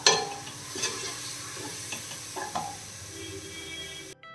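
Chicken biryani masala with a quarter cup of curd sautés in a pan, making a continuous sizzle broken by several scraping stirs of a spoon against the pan, close and fairly loud, with no talk.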